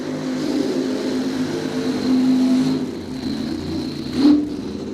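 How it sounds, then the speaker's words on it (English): Nitro Top Fuel funny car engines at Cordova Dragway during a drag race, a sustained loud roaring drone that swells in the middle and peaks sharply near the end, heard from a distance with no talking. "We love the sound of Nitro Funny Cars here at Cordova Dragway."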